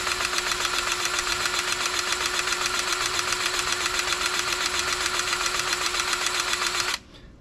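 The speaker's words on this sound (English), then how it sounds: "And start pumping grease." A battery-powered grease gun pumps grease into a boat trailer wheel bearing, its motor a steady, loud, buzzing whir that runs unbroken for about seven seconds, then cuts off abruptly.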